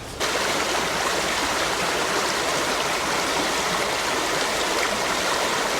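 A small mountain stream rushes steadily over rocks, a continuous broadband wash of flowing water that stays loud and close from start to finish with no pauses.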